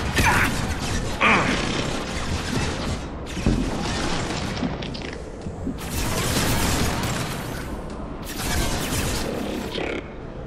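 Dense, loud Mass Effect 2 combat runs throughout, with overlapping bursts of gunfire, thuds and impacts crowding the mix in a steady, chaotic barrage.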